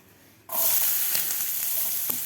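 Chopped onion dropped into a hot pan for anda chaat, breaking into a sudden loud, steady sizzle that carries on close up with small crackles and no speech.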